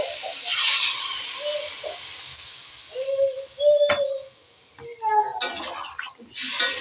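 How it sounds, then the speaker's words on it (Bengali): Water hits a hot pan of fried spice paste, sending up bursts of hissing steam and sizzle that flare and die back several times, fairly close, with faint tonal clatter between. "এবার বেশ ভাজা ভাজা মশলা হয়ে গেছে আমি জল ঢেলে দেবো"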